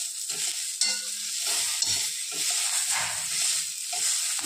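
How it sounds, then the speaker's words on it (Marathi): Green chillies roast in a hot pan with a steady sizzling hiss, broken by occasional scrapes and light knocks as they are stirred and turned, close by and with no voices. "तर मिरच्या आपल्या भाजत आलेल्या आहे."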